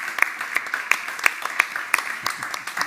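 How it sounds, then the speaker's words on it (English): Sparse, fairly regular handclaps from a small audience at the South Summit 2022 Playground Stage greet the moderator, with individual claps standing out at a steady beat rather than a dense roar. "Please give a round of applause to Martin Garcia"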